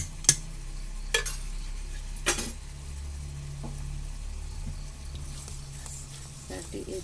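A spoon stirs thick urad dal dosa batter for Mangalore-style dosa, giving a few sharp clinks against the vessel near the start and middle over a steady low background hum, with faint scraping in between.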